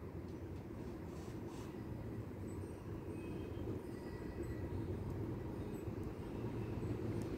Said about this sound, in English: I'm hearing a train.